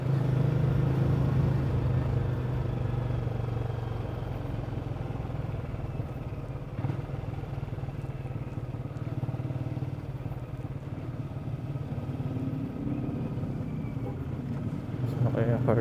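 A Benelli motorcycle engine, an Imperiale 400 or TNT 600, idles with a steady, throaty rumble up close, a constant low drone that swells slightly near the end.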